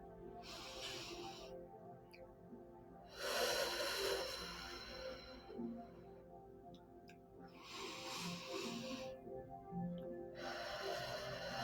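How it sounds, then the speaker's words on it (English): Slow deep breaths taken during a guided meditation, several long airy inhales and exhales in a regular rhythm, close and fairly soft with short quiet gaps between them. "we're going to take 3 deep breaths."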